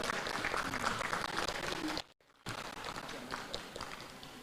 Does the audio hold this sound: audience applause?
yes